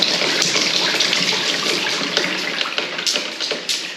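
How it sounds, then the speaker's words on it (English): Water gushes steadily from a tap after an improvised water heater has failed, a loud continuous splashing stream with a few small sputters near the end. "You turn the water on here."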